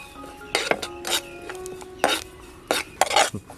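Split mustard seeds being lightly dry-roasted in a pan for Konkani mango pickle, stirred with a spoon in short, close bursts of scraping and metallic clinks separated by brief pauses.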